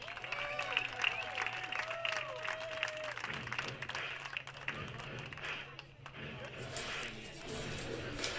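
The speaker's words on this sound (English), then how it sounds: "Cielo Guerrero, everybody. Big round of applause." A ballpark crowd at Arnold Field applauds singer Cielo Guerrero after the national anthem before a Saturday night baseball game, scattered clapping and cheers in the open air with a voice speaking over the start and the applause thinning midway.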